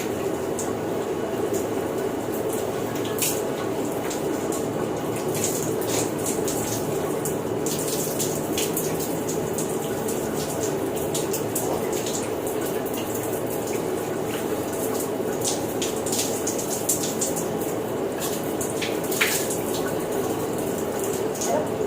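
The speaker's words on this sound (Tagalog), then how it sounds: "Parang humina yung tubig." Water runs steadily from a tap in a room, a continuous hissing splash that holds at an even, moderate level throughout with no voices over it.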